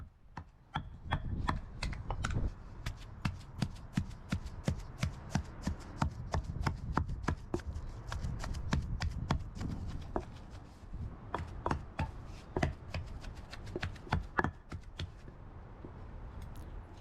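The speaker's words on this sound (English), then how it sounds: "In this I am adding little salt and remaining tamarind and grind everything together." Stone mortar and pestle grinding coconut chutney with salt and tamarind, a steady run of sharp pounding and scraping knocks at close range with no talk.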